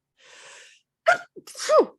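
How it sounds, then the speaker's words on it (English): A single person sneezes: a breathy inhale, a short catch, then a loud, sharp sneeze burst, close and alone in a quiet room. "I'm gonna sneeze. Hold on."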